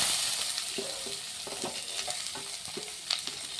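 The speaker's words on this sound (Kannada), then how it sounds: "ಉದ್ದಿನಬೇಳೆ ಫ್ರೈ ಆಗಿದೆ. ಹಸಿಮೆಣಸಿನಕಾಯಿ ಹಾಕೋಣ." Urad dal and green chillies frying in a pan: a steady hiss of sizzling oil with intermittent scraping and clinking stirring strokes, close and moderately loud, no voices.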